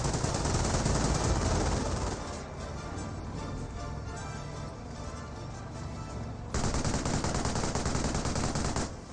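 An MG42 machine gun fires in Company of Heroes during a battle, dense sustained bursts of automatic fire rattling continuously and loudly across the whole stretch, mixed with distant gunfire.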